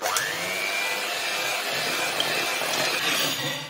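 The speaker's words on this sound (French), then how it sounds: "Je fouette pendant 3 minutes pour aérer la préparation" Electric whisk beating cake batter for a Christmas Yule log, a steady high motor whine that holds level throughout, close and loud, with no speech.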